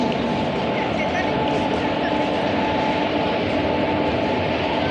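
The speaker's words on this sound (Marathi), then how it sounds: "आणि चालली ट्रेन आता" Koyna Express train rolling between Mumbai and Lonavala, a steady loud rumble with a low hum filling the whole stretch, heard close from on board without a break.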